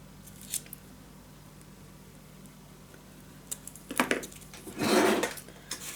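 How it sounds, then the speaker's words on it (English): Scissors snipping a small piece off craft material, a few crisp close cuts with a longer scraping snip near the end, in an otherwise quiet room. "just going to cut a little piece off"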